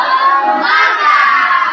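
Children shouting and cheering together in a loud, close, excited burst during a classroom spirit cheer, voices blending into one continuous crowd roar.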